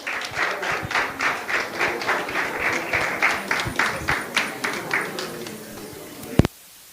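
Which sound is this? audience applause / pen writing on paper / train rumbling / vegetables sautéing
audience applause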